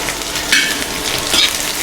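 Onion frying in hot oil with cumin and mustard seeds, a steady close sizzle with two brief brighter crackling bursts, no voices.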